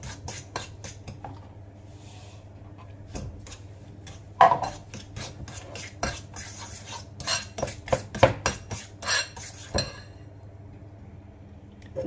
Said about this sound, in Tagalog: I-mix lang natin maigi.